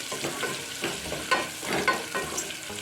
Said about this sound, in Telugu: ఉల్లిపాయను దోరగా వేగనివ్వాలి